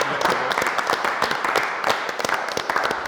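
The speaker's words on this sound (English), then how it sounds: "round of applause" A small group applauds on a football quiz show, a brisk spatter of hand claps that carries evenly through the whole stretch at moderate loudness, with no talk over it.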